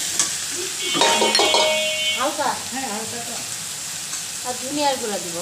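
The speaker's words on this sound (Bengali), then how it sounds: "মুরগি আর টমেটো ভাজা হয়ে গেছে" Chicken and tomato fry in a pan for a home-cooked chicken curry with vegetables, giving a steady close sizzle with occasional stirring scrapes while someone talks over the cooking.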